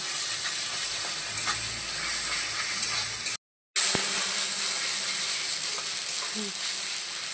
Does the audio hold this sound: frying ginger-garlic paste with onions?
yes